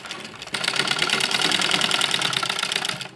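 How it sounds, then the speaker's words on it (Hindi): Domestic sewing machine stitching a kurti's shoulder seam made from an old dupatta, a steady fast-running mechanical whir and rattle starting after a brief pause, continuous and close until the end. "यहाँ पर हमें आधा इंच का कपड़ा रख के सिलाई करनी है"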